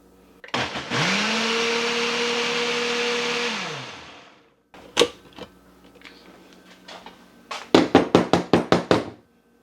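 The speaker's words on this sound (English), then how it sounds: "We're just gonna blend it up in the blender." A blender whirs up homemade taco salad vinaigrette for about three and a half seconds, motor spinning up and winding down, followed by a knock and a quick run of rhythmic tapping and clattering from the jar and lid.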